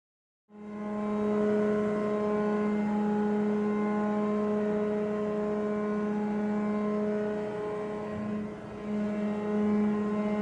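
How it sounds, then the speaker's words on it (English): Ship steering gear running its rudder rams starts abruptly, then holds a loud, steady hydraulic pump drone with strong tonal hum, dipping slightly near the end before resuming. "this is what the steering gear actually looks like when it is being operated"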